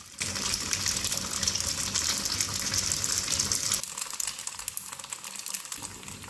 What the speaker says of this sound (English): Heat some oil in the pan, put in a sheet of cold noodles, crack an egg on top,